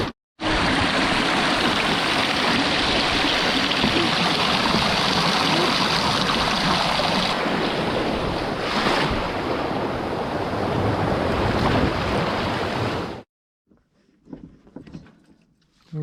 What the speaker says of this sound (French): J'ai besoin de filmer l'eau qui file et les voiles.